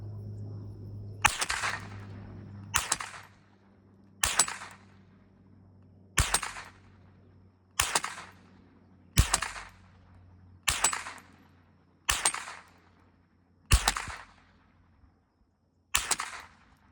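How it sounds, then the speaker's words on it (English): Ten sharp gunshots at a target range, fired one at a time at steady intervals of roughly a second and a half, each crack loud and close with a short echoing tail, and no talking. "So all right, first 10 shots"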